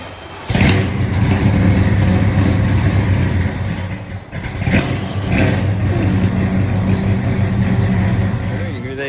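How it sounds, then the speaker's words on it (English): A big-block V8 car engine rumbles loudly and steadily nearby, with a brief dip and a rev partway through, while people talk over it. "That is a very big engine."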